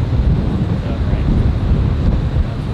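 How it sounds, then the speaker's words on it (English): Strong wind on a golf course buffets the microphone with a loud, constant low rumble throughout, with no clear speech. "The wind's giant."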